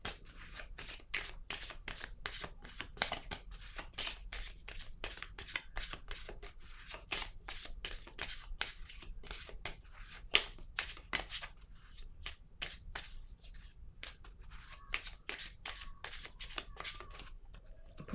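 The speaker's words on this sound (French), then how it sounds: "Je vais piger une autre carte ici." Tarot cards are shuffled and drawn by hand in a quiet room, producing a long run of rapid, crisp riffling flicks and snaps at close range, with no voices.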